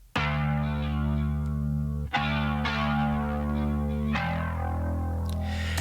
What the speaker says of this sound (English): I've just got this chorus. Again, this is just a Plugin Alliance chorus.